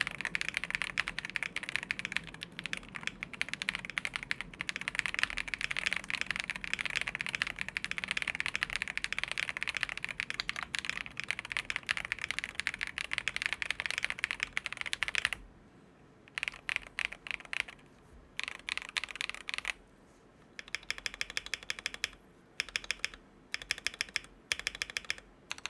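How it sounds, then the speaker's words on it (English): Rapid typing on a modded Akko 5075B Plus mechanical keyboard with relubed, retuned plate-mount stabilizers: dense, steady clacking keystrokes up close, then sparser bursts with brief pauses near the end. "And now the sound test for the 5075B Plus modded."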